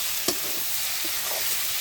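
Water poured into a hot pan of frying potatoes being cooked for a fish-and-potato curry, a steady loud sizzle and hiss with a faint clink at the start, no voices.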